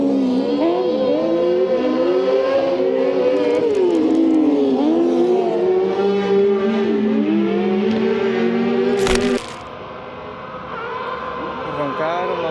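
Rallycross cars at the Lousada national championship roar away from the start, several loud engines revving and climbing in pitch together, with a sharp burst before the roar drops and carries on more distantly.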